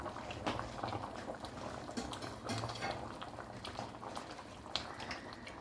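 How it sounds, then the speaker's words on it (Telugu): Tamarind broth with fenugreek seeds boils in a pot, giving a soft, continuous bubbling and simmering with small popping bursts, quiet and close. "చింతపండు పులుసు బాగా మరిగింది."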